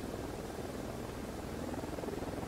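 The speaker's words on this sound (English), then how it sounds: "Chopper." A helicopter in Ghost Recon Wildlands holds a continuous, even rotor and engine drone, moderately distant and fairly quiet, with no talk over it.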